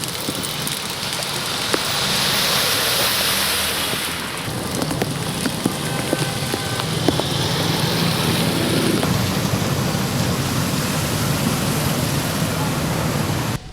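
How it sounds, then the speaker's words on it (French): Steady, dense rain pours onto flooded city streets on a Thursday morning, a continuous loud hiss of water with shifting splashing texture and no clear voices. "La pluie de ce jeudi matin donne place à l'inondation."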